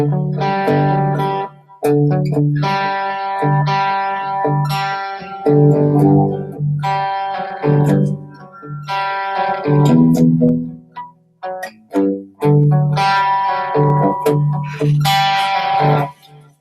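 Electric guitar playing chords and melodic phrases through a warbling, watery chorus effect from a Hysteria pedal, with short pauses between phrases.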